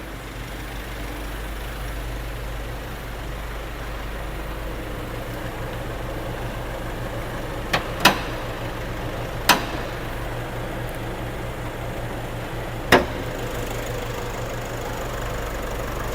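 A 2024 Nissan Navara engine idles steadily in a low, even drone, with a few sharp clicks breaking in near the middle.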